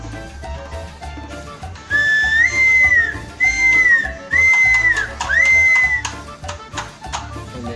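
A frog-shaped fired clay whistle is blown in four clear, shrill toots, each a sustained high tone with a bend at the start or end, standing out over faint background noise.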